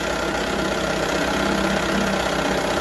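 A 1978 Johnson 6 hp outboard motor, its water pump impeller freshly replaced, runs steadily while warming up, a loud, close, continuous engine drone with no talking.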